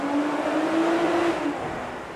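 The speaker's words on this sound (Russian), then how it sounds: "заехать в знаменитый туннель, которые периодически разрывают звуки формульных моторов, чтобы послушать, как работает наш мотор" A 2008 Mercedes-Benz SLK engine revs inside the Monaco tunnel, a loud, echoing roar that climbs to a sustained pitch and then eases off as the sound fades slightly.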